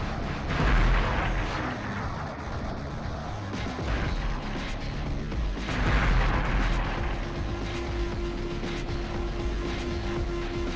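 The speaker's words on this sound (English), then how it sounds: "More mortars." Mortar fire in Future Cop LAPD, a mecha shooter game, booms and rumbles continuously over a dense, loud battle din, with heavier blasts standing out near the start and around the middle.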